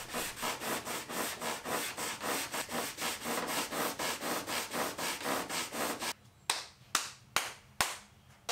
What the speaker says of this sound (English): there's nothing wrong with a little elbow grease to touch up the final bits of sanding.